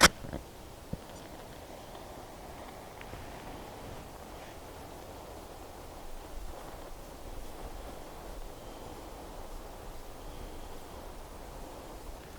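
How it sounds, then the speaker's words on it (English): Steady outdoor wind rushes and buffets a microphone with a broad, even roar, and one sharp snap sounds right at the start where a match is struck. "Have a little bit of wind today."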